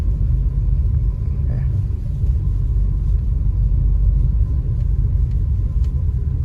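Steady low rumble of city road traffic in Kochi, engines idling and moving in a dense jam, continuous and fairly loud with no talk over it.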